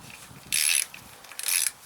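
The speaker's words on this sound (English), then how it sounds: "Now for this you need a 3/8 ratchet." A 3/8 ratchet turning bolts off the intake manifold of a 17.5 hp Briggs & Stratton Intek engine: two short bursts of rapid, close ratcheting clicks separated by a quiet pause.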